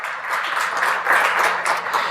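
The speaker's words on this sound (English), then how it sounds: "Let's give Arvind a big round of applause" Audience applause at a future computing summit opening, a steady dense wash of clapping that holds for about two seconds, fairly close and continuous with no speech over it.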